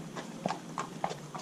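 Horses in a parade of horses walk past at an open afternoon, hooves clip-clopping in an even, unhurried rhythm at moderate distance over a soft background hum.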